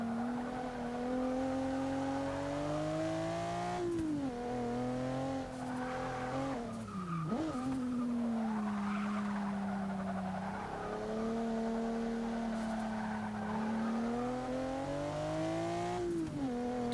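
A 1997 Mitsubishi GTO races a lap in Forza 6, its engine droning loud and steady through gear changes, with brief dips and tire squeal around corners.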